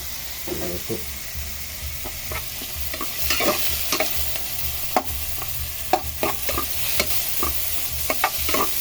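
Long green chili and spices sauté in a pan for squid adobo, with a steady close sizzle broken by scattered clinks and scrapes of a stirring utensil.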